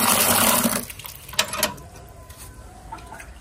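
Water splashes steadily as it is poured onto potted plants in the morning, then tapers off into softer trickles and drips.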